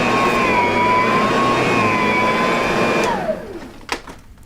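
A Simplicity / Riccar upright vacuum cleaner runs steadily on thick, soft carpet with a loud whining motor hum, then the motor winds down and fades, followed by a couple of faint knocks.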